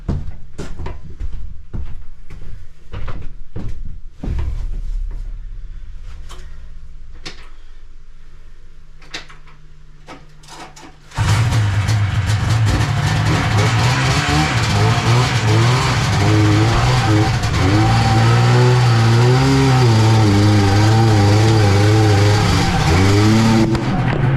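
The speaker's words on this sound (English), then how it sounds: "Alright, I'm gonna drive the 72 TNT in. Hopefully it'll climb up here, no problem." A 1972 Ski-Doo TNT snowmobile being driven up onto an unhitched trailer at an awkward angle: a few scattered clicks and knocks give way to a sudden, loud, steady engine roar that holds up close with shifting revs.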